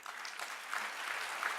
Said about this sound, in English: And the applause is for y'all